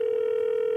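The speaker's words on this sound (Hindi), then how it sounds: "दूसरे कॉलर को फोन लगाते हैं" A telephone dial tone, a single steady continuous tone heard alone and fairly loud while a call is placed to a caller on a comedy show.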